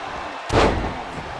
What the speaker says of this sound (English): Carefully measured elbow drop followed by another, unleashing a barrage on their opponent